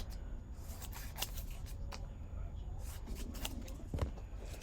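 Scissors cutting fabric and ribbon for a fringed lily needle roll, a string of crisp close snips in uneven rhythm over faint room noise.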